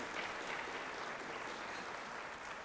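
Quiet, steady applause from an audience honoring a hospital chief executive at a toast, even clapping throughout with no talk.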